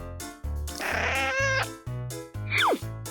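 A cat meows loudly several times in a row, including one rising, drawn-out yowl, with short gaps of quiet between calls.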